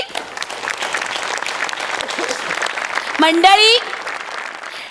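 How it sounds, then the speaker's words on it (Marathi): An audience applauds a comedy star at a stage awards show. Clapping is dense and steady under a voice, then swells with a short burst of cheering near the end. "या जोरदार टाळ्या आपल्या समीर चौगुले यांच्यासाठी"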